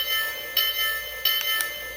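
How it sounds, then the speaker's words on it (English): A Lionel LionChief Plus Pennsylvania A5 toy locomotive's remote-triggered bell rings in a few bright clangs, each with a ringing tail, heard close and clear with no talking. "So here's the bell."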